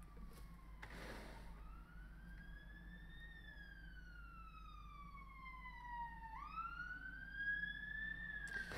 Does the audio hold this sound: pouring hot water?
no